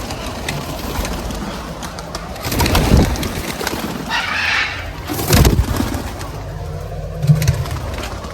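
Pigeons or doves in a home garden give several soft, nearby coos in short bursts over quiet outdoor ambience, with faint traffic in the background.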